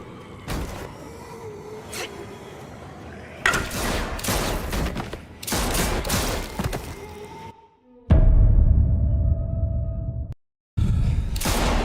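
Gunfire in The Walking Dead: The Final Season video game: a series of loud, sharp shot bursts and clattering impacts, separated by brief pauses and a short silence, with no talking heard.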